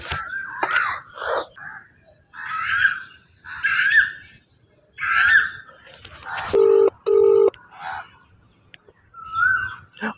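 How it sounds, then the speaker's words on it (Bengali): An unanswered phone call rings out as a short double ring tone partway through, surrounded by drawn-out wailing, moaning vocal sounds before and after. "আবার একটু ফোন করুন, ওকে ফোনটাও তুলছে না"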